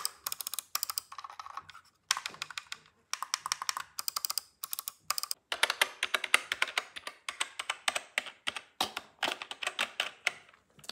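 A mechanical keyboard being typed on, with bursts of rapid, crisp key clicks separated by short pauses, close and clear with no talk over it.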